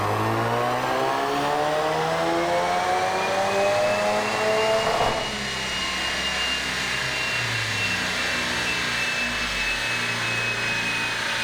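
A Ford Focus RS revs hard on a dyno, with a loud, sustained high-pitched engine roar and rising whine that dips slightly about halfway, then holds steady and close throughout.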